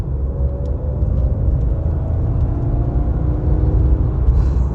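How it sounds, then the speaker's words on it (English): Supercharged engine of a Jaguar XJR X308 under throttle, a steady low rumble with a faint rising whine as the car cruises, heard from inside the cabin. "I do want to try and give it a bit more throttle though, because I do want to listen to that supercharger."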